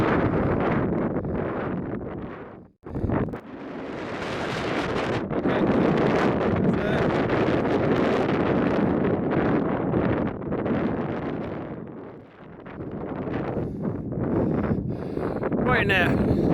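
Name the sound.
wind blowing at a wild camp in Radnor Forest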